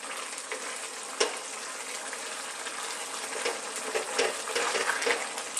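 Cumin, coriander, chili powder, turmeric and tomatoes frying in a pan for okra curry, a dense continuous sizzle with occasional sharper crackles and stirring scrapes, close and without talk.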